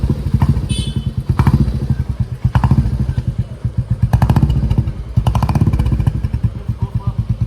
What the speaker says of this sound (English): I finally found a silent place to actually feel the sound of this bike.